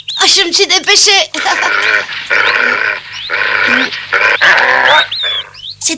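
A dog growls and snarls close by in repeated rough bursts, with brief pauses between outbursts.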